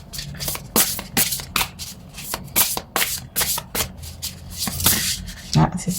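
Oracle cards being shuffled by hand, a run of quick papery riffles and slides repeating in bursts, close and fairly loud, with a faint voice murmuring underneath.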